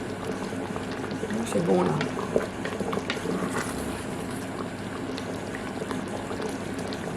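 Fish simmers in bubbling liquid for a seafood gratin, a continuous low boiling burble with a brief clatter early on, while a voice speaks briefly over it.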